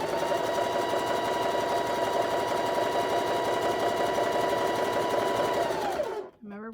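A sewing machine chain-pieces quilt blocks, running in one steady, loud, continuous buzz for about six seconds before slowing and stopping near the end, with no talk over it.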